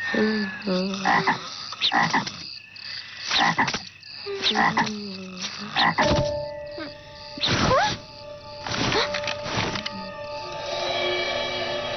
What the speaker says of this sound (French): On dirait un crapaud de Aldridge.